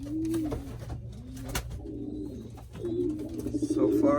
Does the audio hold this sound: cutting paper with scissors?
no